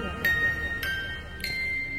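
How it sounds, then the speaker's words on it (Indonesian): Faint tinkling music from a doll, three high chime-like notes about half a second apart over a low murky background hum, distant and thin. "itu suara dari boneka itu"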